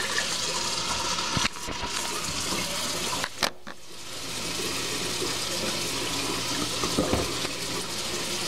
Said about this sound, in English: As you can see, I am washing my hands